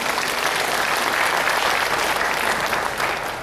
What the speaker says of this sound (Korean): 우리 주님께 영광의 박수 다시 한번 돌려드립니다